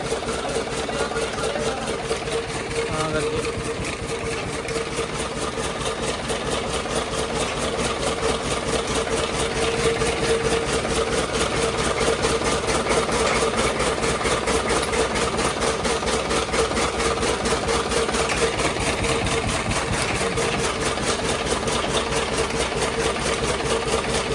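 An engine idles on a dairy farm, a steady, continuous mechanical drone with a fast regular pulse that stays at an even level throughout, close by and without talk.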